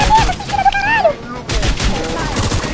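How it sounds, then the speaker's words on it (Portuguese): Rapid video game gunfire, bursts of quick, loud shots in a dense automatic rattle that continue through the whole stretch, mixed with a brief whistling tone and an excited player's voice over them. "Tiro, tiro."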